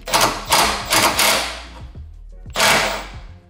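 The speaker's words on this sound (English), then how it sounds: "So now I gotta remove the bushing bolts right here." A power tool, likely an impact wrench, removes the sway bar bushing bolts on a car's rear suspension. Loud, close bursts of rapid hammering come in about four pulses separated by brief gaps.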